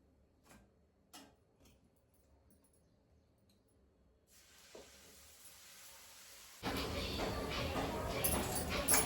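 Dosa batter mixed with onion, green chilli, curry leaves, cumin and a little salt hits a hot pan and breaks into a loud, steady sizzle, after several seconds of quiet ticks and faint kitchen noise.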